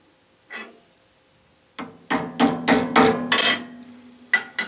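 A hammer strikes a transfer punch set in a bearing to mark a drill hole in a bandsaw blade guide. There is one light tap, then a series of sharp metallic blows in close succession, loud and close.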